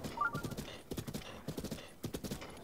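Rapid galloping horse hooves from The Legend of Zelda: Breath of the Wild on Nintendo Switch, a steady rolling clip-clop in bursts of triple beats, close and clear with a brief whinny-like tone near the start.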